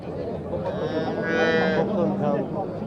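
Cattle at a livestock market give a drawn-out moo, loud and fairly close, over steady crowd chatter and general market bustle.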